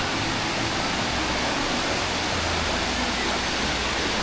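Valley stream water flowing in a mountain gorge near a bridge, a dense steady rush that fills the whole moment without a break.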